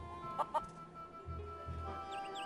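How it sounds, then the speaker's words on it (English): A feral chicken on Plunder Island in The Curse of Monkey Island video game gives a couple of quick, faint clucks, then softer low murmuring clucks over a quiet, steady game ambience, with no speech. "Plunder Island feral chicken."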